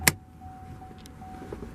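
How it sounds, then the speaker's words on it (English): A hood release on a 2019 GMC Yukon SLT 4WD is pulled with a single sharp click right at the start, followed by a quiet cabin hum and faint distant sounds. "pop the hood right down here,"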